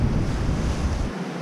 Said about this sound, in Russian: Море сегодня очень прям неспокойно.